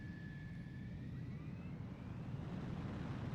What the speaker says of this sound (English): Mobius 1, you are cleared for takeoff.